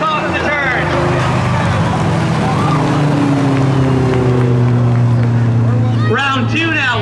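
Street legal cars racing side by side at a drag strip, engines droning steadily nearby with rising pitch sweeps as they accelerate, wind buffeting the microphone and a commentator talking over the run.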